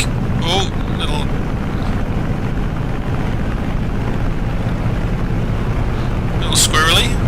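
A WWII F6F-5 Hellcat's piston engine drones loud and steady through a takeoff roll in Microsoft Flight Simulator, a constant low rumble with wind-like noise, while someone talks briefly at the start and end.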